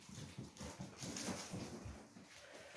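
Puppies in their enclosure give soft, faint whimpers and small yelps in short, uneven bursts, quiet and close with low background noise.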